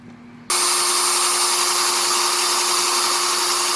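A power drill with a bit drills holes while installing ball bearings on a Chicago Electric dual drum rock tumbler, starting abruptly after a quiet moment and then running as a loud, steady whine to the end.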